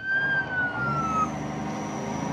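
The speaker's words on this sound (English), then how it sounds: "Hit it again, we have a siren." Police siren on a police transport vehicle in the BeamNG.drive driving game, a loud wailing tone that sweeps downward and then rises again, heard up close with no talking.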